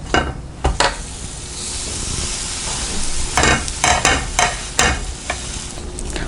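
Bread pakoda, curd-sandwich style, frying in oil on a low flame and being turned in the pan, a steady close sizzle broken by several bursts of spatula scraping and stirring, no voices.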